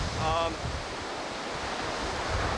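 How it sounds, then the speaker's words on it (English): Heavy hurricane surf in Florida roars continuously with wind rushing across the microphone, a broad steady wash of large crashing waves heard from the shore. "largest waves I've seen out here on my time in Florida."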